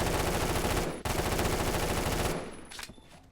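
Rapid automatic gunfire from an enemy pre-firing in the Phantom Forces shooter game, a dense continuous burst with a brief break near one second, then tapering off into scattered quieter shots.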